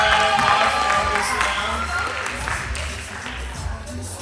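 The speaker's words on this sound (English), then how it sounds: "So, Emily, you want to give him a applause for all this" Applause ripples through a church gathering, a steady wash of clapping that thins out toward the end, with voices mixed in underneath.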